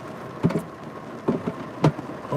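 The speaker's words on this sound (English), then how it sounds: "It's raining now." Heavy rain falling hard with three rumbling thunder-like bursts, steady wash of rain between the louder hits.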